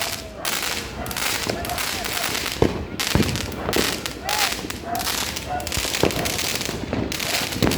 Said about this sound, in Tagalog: Talaga pinagkakagastusan pa rin ng mga fireworks.